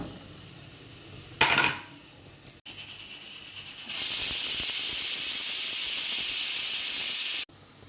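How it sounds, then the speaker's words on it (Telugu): Onion pieces drop into hot oil in a pan and start frying, a brief clatter followed by a loud, steady bright sizzle that holds for several seconds before stopping abruptly. "ప్యాన్లో నూనె వేసుకొని ఈ ఉల్లిపాయ ముక్కల్ని వేగించేసుకుందాం"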